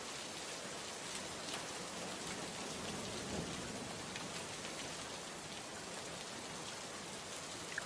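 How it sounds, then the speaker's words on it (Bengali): Steady rain falls over a village where the fields lie flooded, an even, soft hiss of drops on surfaces that continues without a break and without any voices. "সারা দিন একরকম বৃষ্টি হয়ে আসছে"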